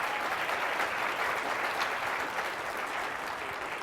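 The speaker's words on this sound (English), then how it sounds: "And give them a round of applause." Steady, dense applause from an audience at a corporate culture talk, rendered as many hands clapping evenly and continuously at moderate loudness throughout, with no speech over it.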